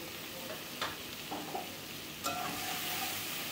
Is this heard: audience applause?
no